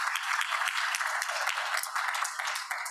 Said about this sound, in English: Round of applause for Nancy.